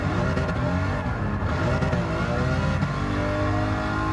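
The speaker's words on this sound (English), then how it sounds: "You have to smoke the tires at some point, and I just did it there." BMW E46 in a racing video game spinning its tires, a steady loud engine drone with revving and a tire-smoke roar held continuously and close throughout.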